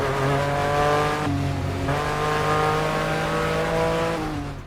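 Racing car engines in the game Grid Legends rev loud and close, pitch climbing through gears with a brief drop and re-rise midway, a continuous high-revving drone with no talk.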